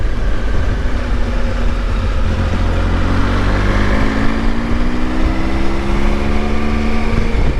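A steady, loud engine drone with slowly rising tonal whine layered over broad rumble, continuous throughout with no voices.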